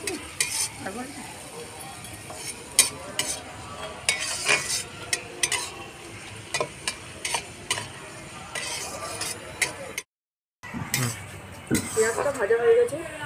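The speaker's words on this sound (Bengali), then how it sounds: "পেঁয়াজটা ভাজা হয়ে গেছে," Onions fry in a pan over medium heat, giving a steady sizzle under frequent stirring scrapes and clinks of a spoon against metal. A voice is heard now and then, and the sound cuts out briefly near the end.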